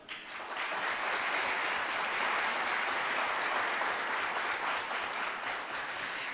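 Steady audience applause for Francisco Mariano Pérez, the maestro, rises quickly and holds as a dense, even clatter of many hands throughout, with no talk over it.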